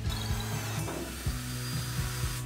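A 1.5-inch hole saw drilling the entrance opening in a wooden bird box front piece: a close, droning motor whine with repeated rhythmic grinding bites as the teeth cut through the wood.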